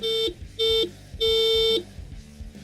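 Three loud electronic horn beeps from an NFirst electric scooter, two short and one longer, evenly spaced, followed by quiet.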